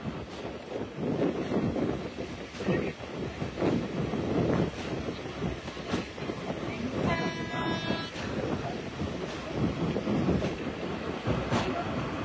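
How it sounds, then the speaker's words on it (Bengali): Burimari Express train passing at a crossing, heard from aboard another train: loud, continuous rumble and rattle of railcars with wind buffeting the microphone and a brief high horn-like tone partway through. "ঢাকা থেকে ছেড়ে আসা লালমনিরহাটগামী বুড়িমারি এক্সপ্রেস ট্রেনটির সাথে আমাদের ট্রেনের ক্রসিং হচ্ছে।"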